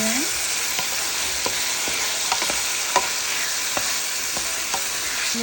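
Squid being stirred with teriyaki marinade in a hot pan, a steady sizzle with scattered spatula scrapes and taps throughout, close and moderately loud.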